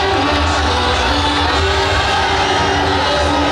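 Thousands of football fans packed into the Nila tourist destination in Ponnani for a World Cup final screening, roaring in a dense, continuous wall of cheering, whoops and shouts that stays loud throughout.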